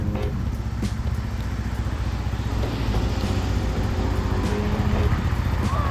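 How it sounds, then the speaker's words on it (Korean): A motorcycle engine idles and then pulls away, a continuous low rumble that rises slightly while traffic-like noise hums in the background. "시동 걸고 자 준비 출발"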